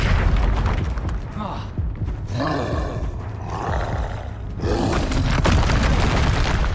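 Confringo spell blasts in the game Hogwarts Legacy: heavy booming explosions with a roaring rumble, loud and close, in several surges, with a voice heard over them.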